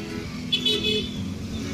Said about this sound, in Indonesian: Situasi lagi macet, banyak kendaraan dan motor.